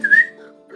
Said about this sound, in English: He looks up and he whistles.